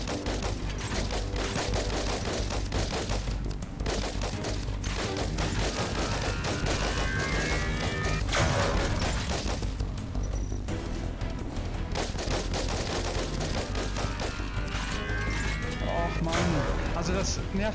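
Rapid gunfire in a VR arcade shooter game, Regenesis Arcade, played on an Oculus Rift S, a dense continuous rattle of shots running throughout with someone speaking German over it.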